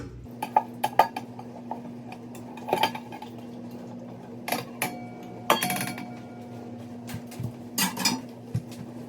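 Butter mixed with sugar and oil in a bowl, with scattered clinks and clatters of utensils against dishes and a low steady hum underneath.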